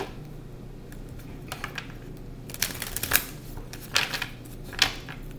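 A deck of tarot cards being shuffled by hand, a few crisp riffling bursts over a faint steady background hum, close up and without speech.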